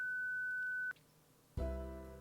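In the Lobotomy Corporation video game, a sensor beep sounds as one steady electronic tone held for about a second before cutting off, followed by a brief lull and then a swell of low game music.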